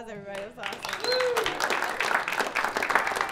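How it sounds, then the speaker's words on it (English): An audience at an open music session breaks into dense clapping that builds and holds steady, with a voice speaking over the start of the applause. "Give another round of applause,"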